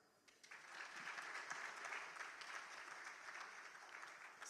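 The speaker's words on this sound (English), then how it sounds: "Please, I want the engineers to clap." An audience of engineers claps together in a sustained round of applause that swells quickly and stays dense, with no talking over it.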